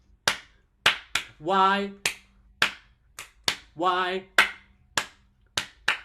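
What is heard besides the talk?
children clapping hands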